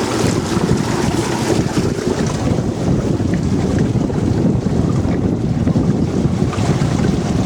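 A solar-powered catamaran with an electric trolling motor on the Colorado River at Needles, California, a loud continuous rush of wind buffeting and water wash against the hull, with no voices.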